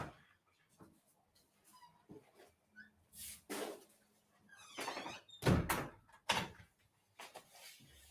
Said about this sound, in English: hold on, my door